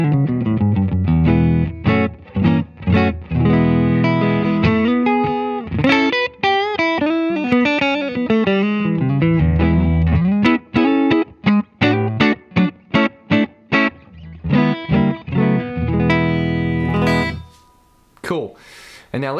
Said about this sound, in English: this is the Fender setting. Let's just play some clean stuff real quick.